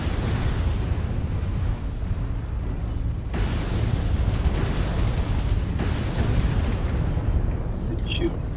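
Artillery strike in the mech combat game MechWarrior Online, with deep rumbling booms landing in a few heavy waves over a constant mechanical drone, mixed under game voice callouts.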